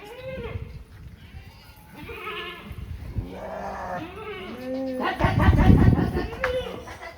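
Goats bleat several times, loud and close, with a more insistent bleat near the end.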